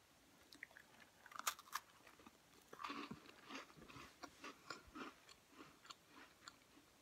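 A crunchy classic custard cream biscuit is chewed close and quiet, with a couple of sharp bites followed by a steady run of soft crunching chews.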